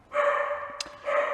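A puppy barking indoors, two short bright barks close by with a brief gap between them, clear and alone without speech.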